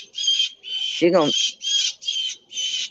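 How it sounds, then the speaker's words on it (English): A blue jay calls repeatedly outdoors, a series of loud harsh squawks in quick succession, with a person briefly speaking over one of them. "It's actually not a crow. It's a blue jay."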